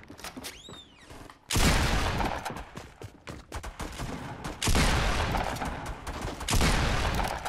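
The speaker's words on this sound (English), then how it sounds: "Who the hell is shooting at me?" Gunfire in Fortnite: three loud, sustained broadband bursts of automatic fire, near and heavy, with scattered single shots and game effects between them.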